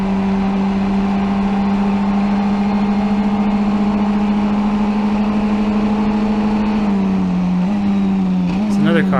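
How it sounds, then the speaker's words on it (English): Onboard a Formula 1600 race car during a race, a steady loud engine drone holds, then the pitch shifts near the end as another car comes past. "There's another car comes past us."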